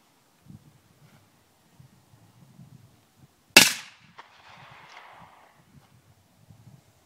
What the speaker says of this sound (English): I'm going to fire the other shot from inside the tube